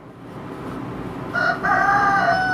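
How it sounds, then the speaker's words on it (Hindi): A rooster crows loudly in the second half, its drawn-out call rising over steady low background noise, with a brief break midway through. "मुर्गे के अज़ानों को आप लोग एंजॉय करें"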